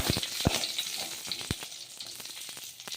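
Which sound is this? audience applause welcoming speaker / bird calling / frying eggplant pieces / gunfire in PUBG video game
frying eggplant pieces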